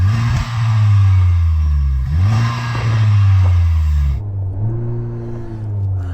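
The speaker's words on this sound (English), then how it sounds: "Go on, Yanni, rev up the FK8" A Honda Civic Type R FK8 revved hard at a drag strip, its loud engine note climbing and dropping in several repeated blips, rough and throaty, with no talk over it.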